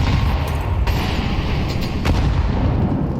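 In Counter-Strike, heavy grenade blasts and gunfire pile into a dense, continuous roar of booms and crackling shots, loud and close throughout.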